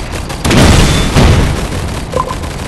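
Tank cannon firing a high-explosive shell in the World War II game Panzer Ace, a loud deep boom that swells and rolls out for about a second before fading into rumbling, with a faint metallic clink near the end.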